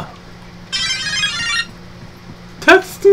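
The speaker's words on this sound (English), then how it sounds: "Not like I plan to get a text message right during our freaking recording." A phone's text message notification tone chimes with a bright, tonal ringtone burst during a Call of Duty Havoc DLC map match, followed by a short second chime, with faint game background underneath.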